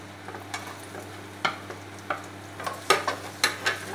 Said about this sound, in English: You give it stir it to make it a little bit golden brown